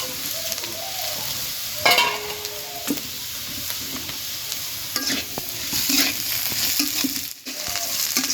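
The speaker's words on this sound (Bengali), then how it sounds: "সুন্দর মতো ভাজিয়ে নেব এবার পেঁয়াজগুলো দিয়ে দিব" Onions frying for chowmein in a pan, a steady loud sizzle with occasional stirring scrapes throughout, no talking.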